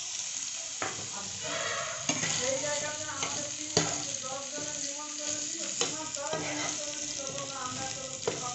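Salt, turmeric, cumin and coriander fry in a pan with potatoes, a steady sizzle broken by several sharp scrapes and clinks of stirring, close and moderately loud.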